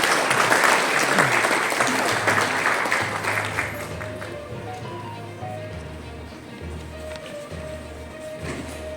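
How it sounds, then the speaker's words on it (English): Audience at a smart metering industry conference applauding to welcome a minister, thick crowd clapping that starts loud and gradually thins and fades, with low tones and faint murmuring underneath. "May I request you all to please welcome him with a good round of applause"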